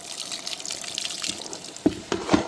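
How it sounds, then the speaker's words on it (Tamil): Water poured into a cooking pot while making an oil-free vegetable kurma, a short trickle and splash building near the end with two brief louder pours close by. "தண்ணி கொஞ்சமாக ஊற்றிக்கலாம்"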